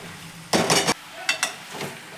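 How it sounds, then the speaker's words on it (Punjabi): Spoon scraping and stirring cauliflower (gobhi) sabzi in a pan, two short bursts of scraping with a softer third stroke, close and clear against quiet. "ਆਪਾਂ ਸਾਰੀ ਗੋਭੀ ਨੂੰ ਚੰਗੀ ਤਰ੍ਹਾਂ ਦੇ ਨਾਲ ਮਿਲਾ ਦੇਵਾਂਗੇ"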